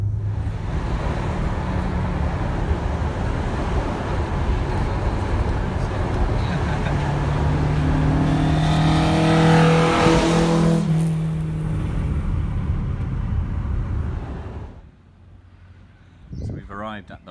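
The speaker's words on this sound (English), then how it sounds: "we found ourselves amongst a nice little convoy of cars" A convoy of classic cars on a Tour Auto rally stage, engines droning and revving loudly as they drive, one rising pass building near the middle before the noise drops away to a quieter close.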